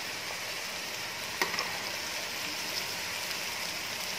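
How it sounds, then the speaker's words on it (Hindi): Bitter gourd (karela) fries in a pan over a medium flame, a continuous soft sizzle like light rain, with a single sharp clack of a utensil against the pan partway through and a few faint taps after. "इनको हम हल्का हल्का सा ब्राउन करेंगे, तब तक इनको मीडियम आंच पे फ्राई करना है।"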